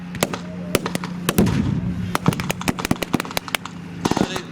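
Blank gunfire crackles at a wartime battle reenactment, with rifles and a light tank firing in rapid, irregular bursts of sharp cracks, loud and close in open air, some shots overlapping into brief volleys.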